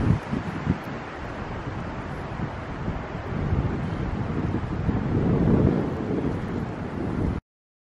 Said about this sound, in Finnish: Melkoinen tuuli.